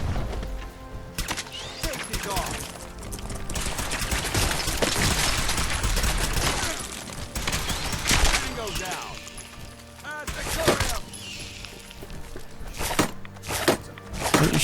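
Gunfire rattles through Fallout 4 gameplay in rapid bursts and scattered single shots, mixed with other game noise while a voice talks over much of it.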